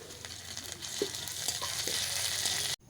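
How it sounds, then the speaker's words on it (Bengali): Onion and ginger paste frying in a pan gives a steady, close sizzle with a few soft stirring taps, then cuts off abruptly at the end. "এরপর দেব আদা বাটা আমি ভালোভাবে পেঁয়াজের সাথে ভেজে নেব।"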